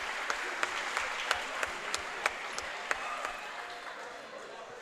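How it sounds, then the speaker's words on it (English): High school varsity girls' volleyball crowd in a gym gives a round of applause for an injured player: a sustained, moderately distant wash of clapping with a few sharper individual claps standing out. "they're going to give her a round of applause."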